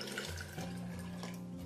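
Cold water pours into a blender jar for a creamy passion fruit gelatin dessert, a steady close gurgling flow with no speech over it.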